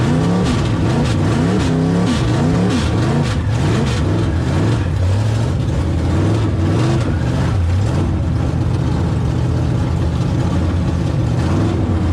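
A B-modified dirt-track race car, owned since 1998, takes its first laps at Springfield Raceway. Its engine roars loud and continuous, rising and falling in repeated revving sweeps as it circles the track, with no talk over it.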